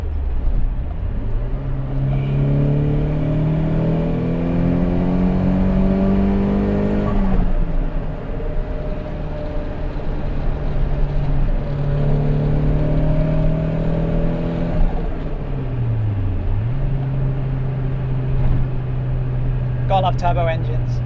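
A turbocharged BMW E30 or E36 engine revs hard through several gears, the pitch climbing and dropping between shifts, loud and close with a steady whirring drone.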